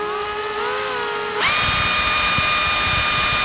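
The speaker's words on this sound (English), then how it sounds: "Just drilling straight in." A power drill bores into the wood of an acoustic guitar body, whirring steadily, its pitch rising sharply as it bites in and then holding a loud, sustained high whine.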